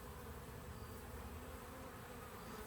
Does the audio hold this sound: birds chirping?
no